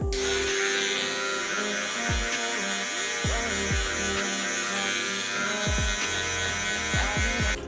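Electric hair clippers fitted with a 5 mm guard buzzing steadily up close during a self haircut, the drone dipping in pitch each time the blades bite into hair.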